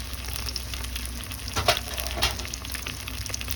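Tofu steaks frying in a pan give a steady, close sizzle throughout, with a couple of brief clicks or stirs around the middle and no talking.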